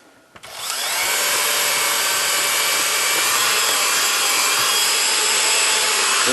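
Electric mixer beating dry ingredients into a thick zucchini cake batter, starting up after a faint clunk and then running as a loud, steady high whine throughout.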